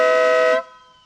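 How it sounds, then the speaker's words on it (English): A loud, brassy motorcycle air horn, a Bad Boys horn on a Suzuki Hayabusa, blasts once for about half a second, then cuts off and leaves a brief fading ring. "I believe it's the Bad Boys air horn out of Harbor Freight."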